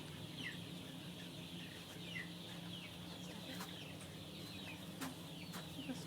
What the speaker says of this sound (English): So we've got roosters and chickens.